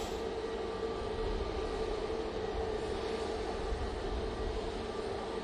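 An easyJet airliner at Manchester Airport produces a continuous engine drone with a faint steady whine, heard from some distance and holding even throughout.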